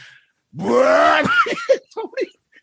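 A voices exaggerated, drawn-out burp-like groans, one long throaty roar followed by several shorter choppy bursts, loud and close, made with the mouth as an imitation.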